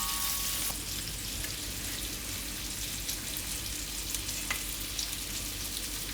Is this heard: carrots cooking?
yes